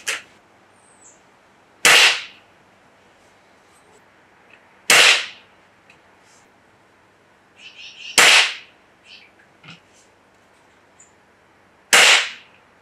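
A Gamo Wildcat .22 air rifle fires Gamo Rocket 14.5-grain pellets in a backyard, four sharp, loud cracks spaced a few seconds apart, each with a brief faint tail and small clicks between shots.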